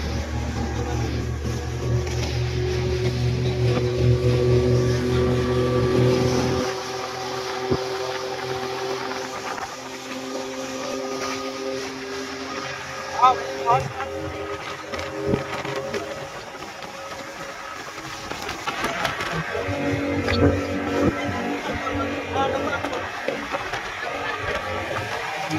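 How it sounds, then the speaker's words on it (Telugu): A fast motorboat ride opens with a loud, droning outboard engine that drops away after several seconds, leaving quieter water and wind noise with occasional bumps and knocks. "ఫిష్ ఇప్పుడైతే మనం బోట్ అయితే ఎక్కేసినాం"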